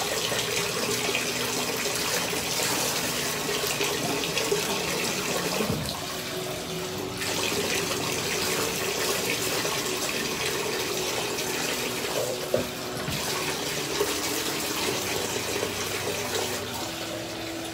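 Shower water runs steadily while red-dyed hair is rinsed, making a loud, continuous spray and splash close by, with brief shifts in the stream partway through.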